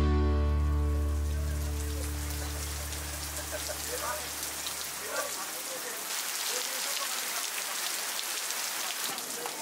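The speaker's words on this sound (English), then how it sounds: "Well, it's raining." Steady rain pattering on a surface in Davao, Philippines, a continuous hiss of drops, briefly overlapping a fading low hum at the start.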